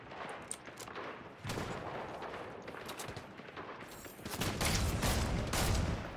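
Rapid bursts of gunfire crackle through a Fortnite match, with scattered single shots giving way to dense, sustained volleys that grow louder toward the end, with almost no talk.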